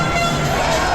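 Dense roar of a large protest crowd packed into London streets, loud and continuous, with overlapping shouts and voices blending into one wall of noise.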